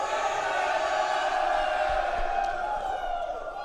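A large crowd at the ESL One Bangkok grand finals fills an arena with a steady, dense roar of cheering and chatter, loud and continuous throughout.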